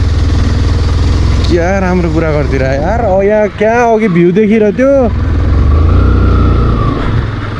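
A motorcycle engine runs steadily on a Saturday ride to Tintale waterfall, a loud low rumble throughout, with people talking over it in the middle.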